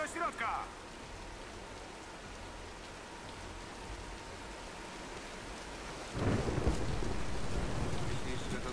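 Thunderstorm rain in the video game Tomb Raider (2013), a steady hiss of heavy rainfall with a brief crackle near the start and a louder rumbling surge of thunder in the final seconds.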